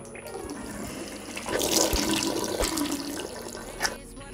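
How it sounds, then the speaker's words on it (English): Water runs from a tap while a face is rinsed, a close, rushing splash that swells in the middle and then eases off. "you just rinse the face with water, with running water"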